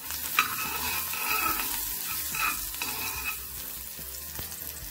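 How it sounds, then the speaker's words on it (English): Onions caramelizing in a pan for vegan jackfruit burritos give a steady sizzle and fry, with stirring scrapes and a few sharper clicks across the whole stretch, fairly close and moderately loud, with no talking. "I'm just here caramelizing my onions"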